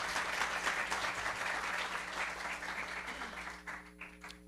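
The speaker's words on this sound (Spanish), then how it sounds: "brindemos un fuerte aplauso a este plan de desarrollo del Atlántico" An audience applauds steadily, a dense wash of clapping that gradually thins and fades out near the end.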